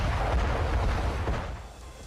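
A deep, rumbling blast roar from missile strikes on Tehran's Lavizan area fills the clip at high volume. It is loud and sustained, then fades slightly toward the end.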